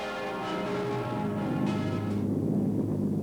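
Church bells ring continuously in Dresden as a warning of approaching British bombers in February 1945, their layered tones overlapping and resonating, then fade into a low steady rumble.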